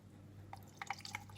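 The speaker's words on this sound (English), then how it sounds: "I'm going to pour some water" Water poured into glass beakers at a tabletop, heard faintly as a few soft drips and splashes over a low background hum.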